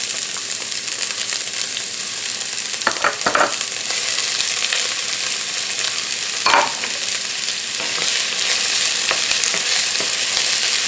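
Diced yellow onion frying in heated olive oil, a steady loud sizzle across the whole stretch with a few sharper stirring scrapes near the middle, no one speaking.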